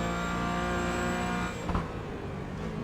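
An iRacing race car lapping the Sebring short circuit in the video game, heard on board as a loud, steady high-revving engine whine. Revs drop abruptly about halfway through under heavy braking, followed by lower, rougher engine noise.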